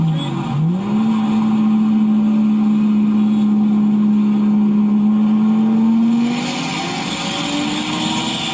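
Two cars racing side by side, one engine roaring loud and near with a rising, sustained drone that holds steady before shifting pitch as the cars pull away, with a faint voice mixed in.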